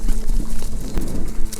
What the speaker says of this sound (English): It was on the 4th morning that Javier heard the sound of a horse gallop towards the cabin.